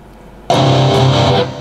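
A brief burst of distorted electric guitar from a Boss GX-100 multi-effects unit kicks in suddenly after near silence, a loud gritty chord ringing for about a second.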